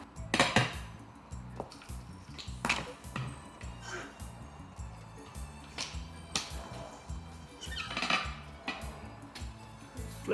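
Metal pot handled and clanked while a tachin with chicken is flipped over in a home kitchen, a few sharp clinks and knocks over a low background hum, near and moderately loud.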